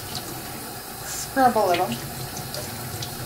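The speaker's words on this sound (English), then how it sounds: "Cold water. So, the water coming off it is white." Cold tap water runs steadily over a vacuum cleaner part being rinsed and scrubbed at a sink, a constant close splashing hiss, while someone speaks briefly over it.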